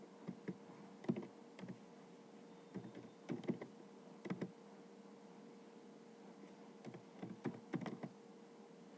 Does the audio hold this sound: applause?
no